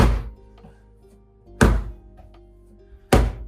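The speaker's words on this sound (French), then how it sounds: "Hop, vous soulevez, vous tirez, là, claquez, vous prenez." Baguette dough, kneaded by hand with the Bertinet method, is lifted, stretched and slapped down three times at steady intervals. Each slap is a loud, close, heavy thud, with quiet pauses between.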